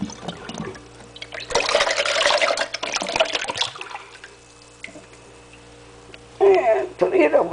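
Running water rinses small drink bottles at a sink, with irregular splashing and sloshing bursts, a quieter gap, then a louder splash near the end, and a voice talking in places.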